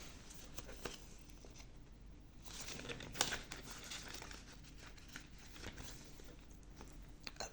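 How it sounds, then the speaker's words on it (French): Cash being slipped into paper budget envelopes, soft crinkling and shuffling of bills and paper with light taps, quiet and close, with no talk. "Je vais re-remplir mes enveloppes."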